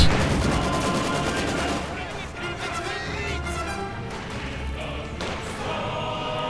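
Rapid machine-gun bursts and heavy rifle cracks ring out in a WWII strategy game battle, dense and loud at first and then thinning into scattered shots and thuds, with commentary talk running over them.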